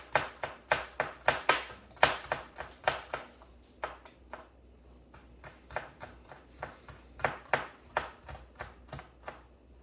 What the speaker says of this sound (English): You're gonna take your garlic and we're gonna mince this up.